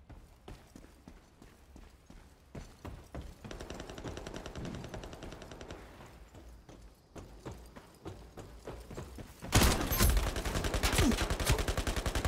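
M1014 shotgun fire in the Ironsight online shooter, with rapid, dense bursts of gunfire and clatter throughout, swelling into a loud, sustained volley near the end without speech.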